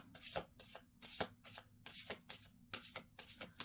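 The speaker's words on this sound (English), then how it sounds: "This deck is harder to shuffle. It's too big." A large deck of tarot cards being shuffled by hand, heard as close, crisp riffling bursts repeating in an uneven rhythm with short pauses between, no talking.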